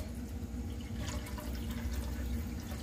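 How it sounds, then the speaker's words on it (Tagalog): A little water poured into a pot while cooking kare-kare with crispy pata, a steady soft splashing and trickling that runs for a few seconds, faint and close, with no talk. "Then, add lang tayo ng konting tubig."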